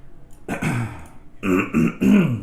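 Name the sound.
throat clearing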